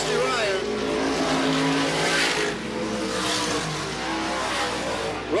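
Supermodified race cars roar around the Sandusky Speedway oval in 1985, a loud continuous engine drone with rising and falling revs, under a commentator's voice.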